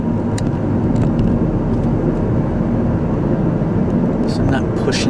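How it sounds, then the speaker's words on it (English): A car gradually accelerates through traffic on a drive home from work, its engine a steady, smooth low rumble and road roar beneath someone talking throughout. "we're just going to gradually accelerate"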